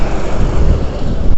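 Strong, cold wind gusts steadily into the microphone outdoors, a constant low roaring buffet with no pauses throughout.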